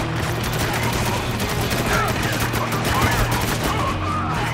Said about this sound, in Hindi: Taking some heavy fire here